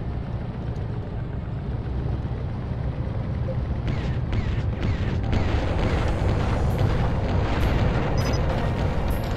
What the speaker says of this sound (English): Assault tank destroyed.